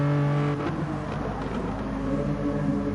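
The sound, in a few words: Renault touring car engine in GT Sport racing video game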